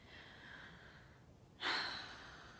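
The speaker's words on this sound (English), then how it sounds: "fill up your chest with breath, and start breathing" Slow, deep human breathing close to the microphone, a long soft inhale followed by a stronger, airy exhale, quiet and alone.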